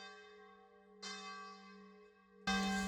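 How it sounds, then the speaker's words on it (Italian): Church bells ring out in a small Italian village, several bells sounding together with long sustained tones, a fresh loud strike at one second and an even louder peal near the end. "12 colpi e poi fanno tutte le campane"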